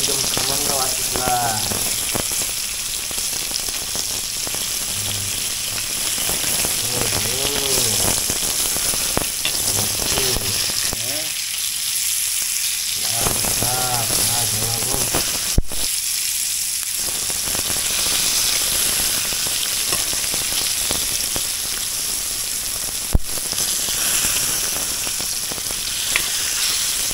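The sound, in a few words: bangda (mackerel) fish frying in a pan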